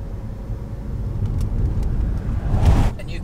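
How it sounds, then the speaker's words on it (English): A single car approaching on a rough, closed country road, heard as a low rumble that swells and peaks near the end before easing, with a brief whoosh as it draws close. "Oh, finally got a car coming."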